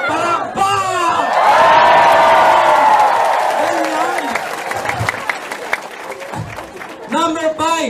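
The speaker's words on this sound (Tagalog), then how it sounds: "Palakpak!" Audience applause and cheering swell loudly around a speaker at a Filipino-language training session, a dense burst of clapping with whoops that fades gradually, while a voice talks over and after it.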